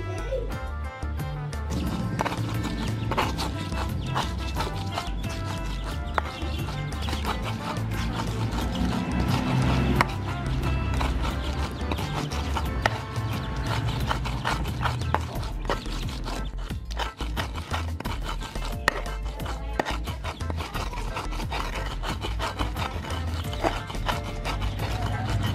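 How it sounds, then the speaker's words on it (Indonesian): Garlic, turmeric and coriander being ground with salt and seasoning in a stone mortar and pestle (ulekan), making steady rhythmic grinding and knocking strokes that repeat close up and continue without pause. "Yuk bahan-bahannya diulek dulu yuk."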